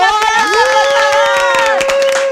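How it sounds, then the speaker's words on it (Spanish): A television studio audience for a Spanish-language talk show claps and cheers, a loud crowd with whoops and shouts mixed in, and a sustained tonal sound that may be music or a held voice rides on top throughout. "¡Un aplauso"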